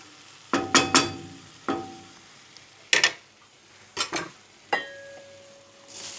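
Eggplant with garlic, chili flakes and salt frying in a pan, a quiet sizzle broken by several sharp clacks and scrapes of a utensil stirring against the pan at irregular intervals.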